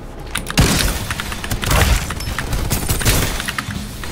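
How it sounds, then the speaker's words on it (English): Video game gunfire in Farlight 84 crackles in dense bursts of loud shots with sharp impacts, several heavy volleys starting about half a second in and repeating throughout. "I'm getting shot"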